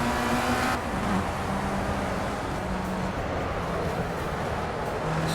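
Race cars in Project CARS pull away at the start of an FR Euro Trophy race at Donington Park, a loud continuous engine roar with rising revs and gear changes, a dense pack close by.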